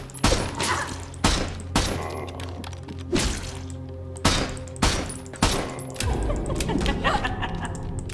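Video game guns fire in a series of sharp, punchy shots spaced irregularly, some in quick pairs, with a moderate level of background noise between them.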